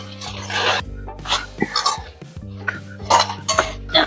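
Fried cauliflower being tossed into sauce in a metal pan for gobi manchurian, with repeated scraping and clinking of a spoon against the pan in uneven bursts, close and fairly loud over a steady low hum.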